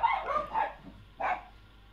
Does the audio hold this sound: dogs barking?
yes